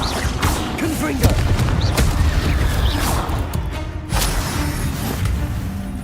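Confringo blasting-spell explosions from the video game Hogwarts Legacy, several cracking bursts and impacts spread through the clip, with a voice shouting spell names over the combat.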